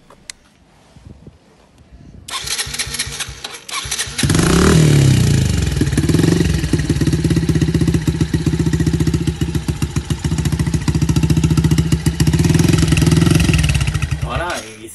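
A new Yamaha TT-R 90 dirt bike is cranked by its electric starter, catches and settles into a loud, close, steady idle with a rapid putter, after someone speaks briefly at the start.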